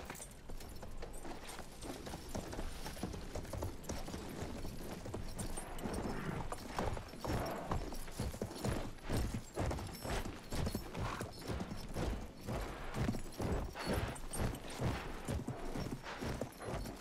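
Horse hooves galloping across a field in the Battlefield 1 video game, a steady rapid clip-clop rhythm running loud and continuous throughout with faint mechanical rattling beneath.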